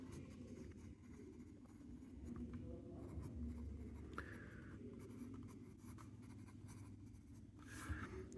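Pen scratching across paper while a small circle and a short line are drawn, with a steady, close-up writing scrape and faint background hum. No one speaks.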